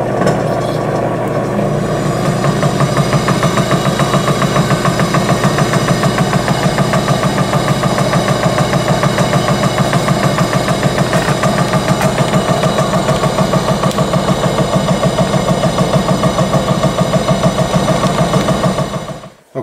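Bosch ignition distributor being spun clockwise on a test rig, giving a loud, steady mechanical drone with a fast rhythmic ticking that runs evenly for almost twenty seconds before cutting off.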